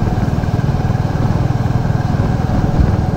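A motorcycle engine runs close by with a loud, steady pulsing throb, no voices.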